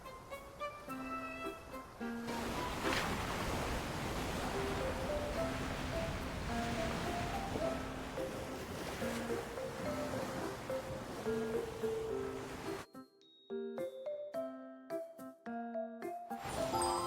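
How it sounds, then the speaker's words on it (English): Ocean waves on the eastern coast in the video game Love and Deepspace build into a broad washing surf, set under soft chiming game music with tinkling notes that carry on after the waves cut out. "The sound of the waves seems to be getting louder."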